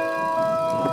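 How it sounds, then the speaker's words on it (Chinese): Church bells ring out in the morning near Taroko in Taiwan, a sustained, steady chime with long humming overtones held throughout, moderately distant over faint background noise. "清晨我们不因前一天的疲惫而迟疑，在悠扬的教会钟声中迈开脚步"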